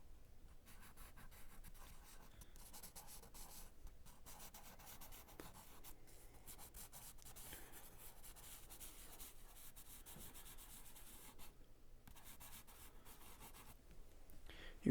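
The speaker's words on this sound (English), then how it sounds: "the writing sounds that the pencil make right up in your ear should be very relaxing" A pencil scratching and rubbing on paper very close to the microphone, a continuous soft, dry writing texture with brief pauses, quiet and intimate.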